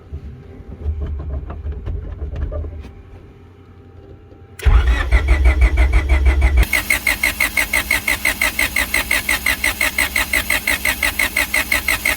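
Honda Civic hatchback engine cranking during a project build, a loud starter grind that gives way to a rapid, rhythmic mechanical clatter repeating steadily to the end without catching into a clean idle.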